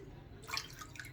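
Water dripping while the face is wetted during a wet shave, a couple of soft close drips in an otherwise quiet room.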